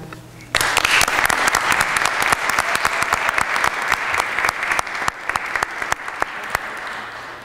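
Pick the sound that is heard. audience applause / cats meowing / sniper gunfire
audience applause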